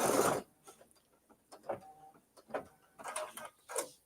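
Home sewing machine stitching an appliqué flower onto a mini quilt, heard as a series of short, uneven mechanical bursts with pauses in between as the needle jumps around, fairly quiet and close.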